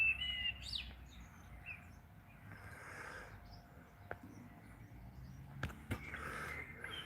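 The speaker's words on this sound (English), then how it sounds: "That bird you can hear singing is on top of that tree up there. It's a blackbird." A blackbird singing from the top of a tree in the evening, its song faint and distant, in brief scattered phrases over quiet outdoor background with a few sharp clicks and knocks close by.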